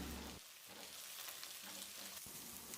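Onion, green chillies and curry leaves sauté in a pan for egg stew, a soft, steady, hissing sizzle heard close and alone.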